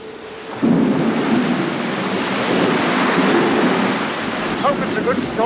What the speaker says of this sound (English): Hope it's a good storm. I like the rain.